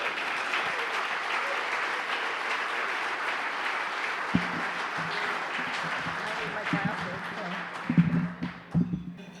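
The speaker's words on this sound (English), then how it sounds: "please give her a round of applause" Audience clapping in a hall at a school awards event, a sustained wash of steady applause that thins and fades near the end as a few voices and stage sounds come through.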